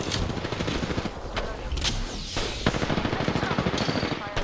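Rapid automatic gunfire in the shooter game Apex Legends, dense and continuous bursts of rattling shots filling the whole stretch, loud and close, with brief gaps and overlapping volleys.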